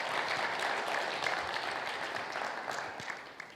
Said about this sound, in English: A round of applause for our teachers and innovators.